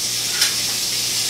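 Ground beef fries in a pan with garlic and oil, giving off a steady, close sizzling hiss with no voices over it.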